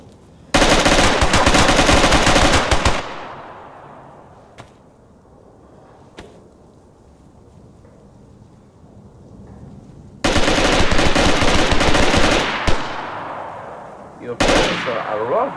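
Loud automatic gunfire in the survival game DayZ, two long sustained bursts with a few isolated shots between them, followed by a final short burst, ringing with a lingering echo.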